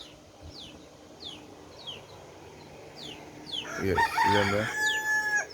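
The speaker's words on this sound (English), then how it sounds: "I don't know if you can hear the rooster." A rooster crows loudly and close in the early morning, a long ragged call rising over a backdrop of repeated high bird chirps, while someone talks briefly nearby.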